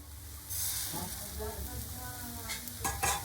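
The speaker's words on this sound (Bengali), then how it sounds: "এবার আমি এর মধ্যে আবারও ব্যাটারটাকে ঢেলে দেব" Batter poured onto a lightly oiled griddle for patishapta pitha sizzles steadily and softly close by. A few brief scraping sounds come near the end, and a faint voice can be heard.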